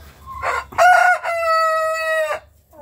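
A rooster crows loudly and close by in a backyard flock of Sussex, Bahamas and Wyandotte chickens, one long drawn-out call with a short clucking lead-in, then quiet.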